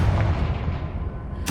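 A Confringo fire spell in Hogwarts Legacy goes off as a heavy, booming blast that rumbles on without a break, with a sharp burst near the end, loud and close with no voices.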